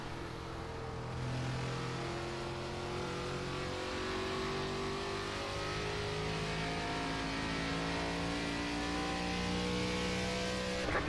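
ARCA stock car racing at Phoenix in the iRacing simulator, its engine revving and accelerating in a steady loud drone with rising pitch sweeps through the laps, no talk over it.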